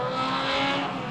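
A historic Ford Zephyr racing car screams past at a historics race at Phillip Island Circuit, loud and close, its high engine note swelling and fading over about a second with no talk.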